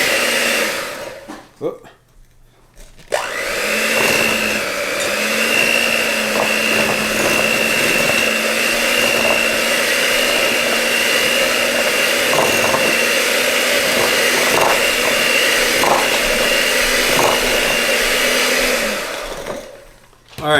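A hand mixer blends softened butter with sweetener for keto almond joy chocolate chip cookie dough, giving a steady, loud motor whir that runs for most of the span with a brief voice near the start.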